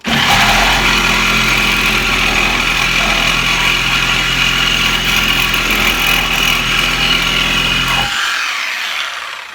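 A power tool deburrs a metal spacer in a continuous, loud, high-pitched grinding whine with a rough buzz underneath, then cuts off abruptly near the end.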